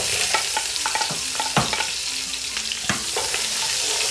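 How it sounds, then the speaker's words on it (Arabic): Onions fry in ghee in a pot for a fish sayadieh dish, a dense close sizzle punctuated by sharp scraping stirs and clinks of a spoon against the pot, loud and without speech. "رح نحط البصل،"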